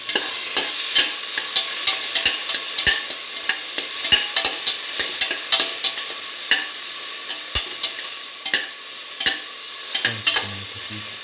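Tomato pieces sizzle steadily in a frying pan with a potato and French bean mixture, while a utensil scrapes and taps repeatedly as it stirs, close and fairly loud.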